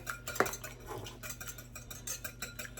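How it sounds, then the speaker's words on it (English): Eggs and heavy cream whisked in a bowl, heard as quick, light metallic clinks and scrapes of a whisk against the bowl, close up and fairly quiet, with a sharper clack near the start. "In my bowl here, I've got a couple eggs and some heavy cream, so I'm going to whisk this together"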